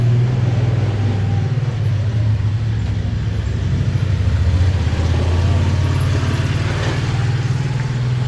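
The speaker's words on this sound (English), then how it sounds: "Wait a minute, let the truck go." A truck rumbles past on a narrow old-city street between the Christian and Jewish quarters, a steady loud low engine drone with road noise filling the whole stretch, no voices heard.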